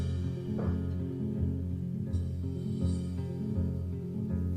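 A recording of a folk song plays with sustained harmonic instruments and a steady low rhythm; a warm, full mix continues without pause.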